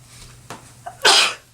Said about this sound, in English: And I'm gonna sneeze.